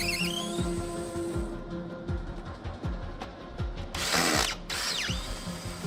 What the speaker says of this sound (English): We're gonna try to remove the screws to see the packaging inside.